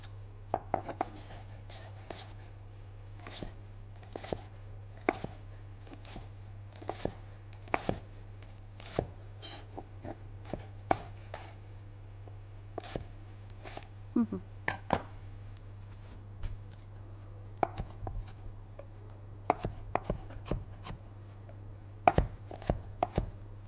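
Red onion and walnuts are chopped finely with a knife in quick, dense bursts of close, crisp strikes, pausing briefly between runs while someone talks.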